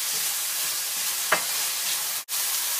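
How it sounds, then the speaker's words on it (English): Tomatoes and leftover vegetables frying in a pan give a steady soft sizzle, with one brief scrape of stirring partway through and a short dropout near the end; no talking. "The key is to keep them moving so that they don't burn while they're frying."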